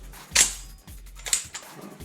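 Two sharp mechanical clacks of a Winchester SX4 shotgun action being cycled during cleaning, about a second apart, close and crisp, with a faint hum between them.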